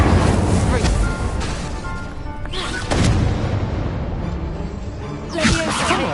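An Incendio fire spell cast in Hogwarts Legacy bursts out in loud whooshing blasts over continuous game noise, with a sharp swell near the end. A spoken voice runs through the blasts.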